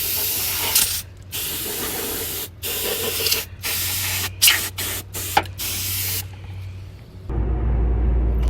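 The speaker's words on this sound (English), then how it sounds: "I got some this air sprayer like you use for your computer" Several bursts from a compressed air duster hiss in quick succession, loud and close, blowing debris around a car's EGR valve, with short gaps between sprays, then a steadier low rumble takes over at the end.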